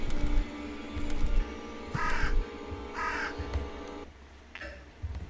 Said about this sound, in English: The crows are in here